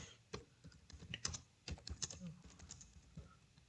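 Computer keyboard typing a few lines of text, an irregular run of close, crisp key clicks with brief pauses between bursts, no speech.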